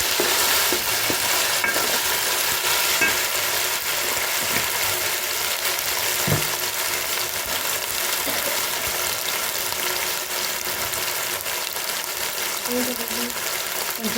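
Ginger garlic paste fries in a pan and is stirred steadily throughout, with a constant hiss and frequent scraping that stay close and fairly loud.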